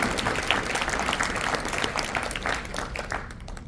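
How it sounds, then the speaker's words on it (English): Audience applause for Elder Sprewell at a Black wealth-building event, a steady dense patter of many hands that holds for several seconds and thins slightly near the end. "Let's give Elder Sprewell a round of applause"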